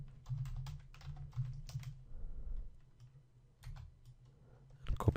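Text typed on a computer keyboard while writing HTML, with bursts of close, clicking keystrokes separated by short pauses and a low hum underneath, ending in a louder clatter.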